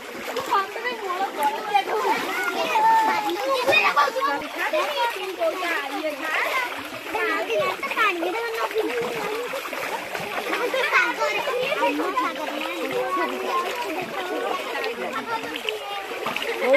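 Steady, close splashing and sloshing of people wading across a flooded river in a village after a cyclone, continuous throughout under overlapping chatter and children's voices.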